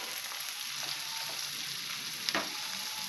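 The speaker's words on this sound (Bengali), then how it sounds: "দিয়ে এই চিংড়িটাকে এর সঙ্গে নাড়বো।" Shrimp frying with jute leaves in a pan, a quiet steady sizzle with one brief scrape of stirring near the end, no voices.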